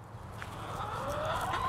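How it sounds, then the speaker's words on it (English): Hens cluck softly close by, a low continuous murmur of chickens with no voices over it. "I wanna show you all my chickadees here, my girls, the chickens"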